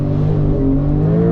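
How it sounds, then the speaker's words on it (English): A 992 Porsche Turbo S launching from a standstill, its engine note roaring loud and close as the pitch climbs steadily through the short burst. "To launch the Turbo S, foot on the brake, foot on the gas,"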